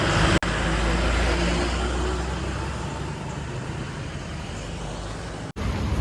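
Busy road traffic on the way to Vaikom, Kerala, with a bus drawing near among passing cars and trucks; a steady, fairly close engine rumble and road noise, with a faint air-brake hiss and no talk.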